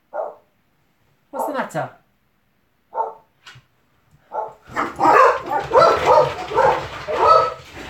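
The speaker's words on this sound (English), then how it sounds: "one of them has just started barking and now they've all gone crazy." Five dogs in a home barking, first a few separate yips and barks with a brief spoken question, then erupting into loud, continuous overlapping barking from the whole pack.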